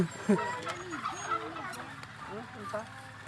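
Several chickens clucking and warbling close by, a busy overlapping chorus of short calls with faint background voices.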